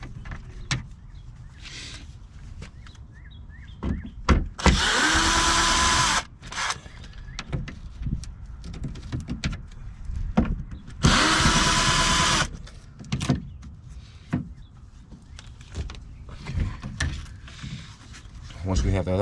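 A power driver spins out window regulator bolts with a 7mm socket inside the passenger door of a 2007-2017 Ford Expedition, two loud whirring bursts, each lasting about a second, close by, with a person talking and clattering tools around them.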